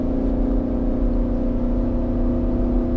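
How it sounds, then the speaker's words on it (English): A 2020 Nissan Patrol V8 pulls hard at full throttle, its steady low engine drone and mid-range hum running continuously and loud throughout, with no talk over it. "round the corner, foot flat to the floor. It's accelerating."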